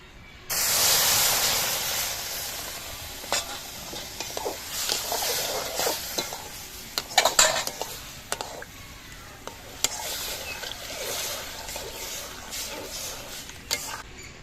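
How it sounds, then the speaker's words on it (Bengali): Pre-mixed Amul milk poured into fried semolina for nalen gur halwa, a loud hissing sizzle bursting up at first, then steady bubbling and scattered stirring scrapes in the pan. "এবার এর মধ্যে আমি দিয়ে দিচ্ছি আগে থেকে গুলিয়ে রাখা আমুল দুধ।"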